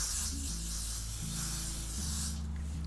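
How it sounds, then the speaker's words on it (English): Got To Be hair spray hisses in a steady, close spray onto gelled hair, a continuous airy burst lasting a few seconds with no talking. "So I'm gonna take my Got To Be spray and spray this on directly"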